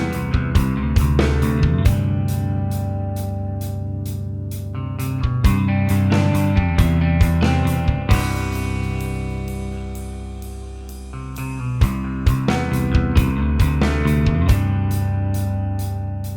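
Song excerpt by an emo band: full band with layered guitars, bass and drums, steady loud playing with cymbal accents and a swelling middle section, no voices talking over it.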